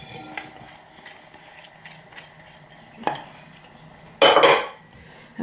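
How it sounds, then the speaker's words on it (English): Butter and sugar go into a bowl for a Christmas cake, with light clinks and scrapes of utensils against the dish and one louder burst of clattering near the end. "next we're going to add our butter into a bowl, and we're going to add our sugar"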